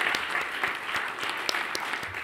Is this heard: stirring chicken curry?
no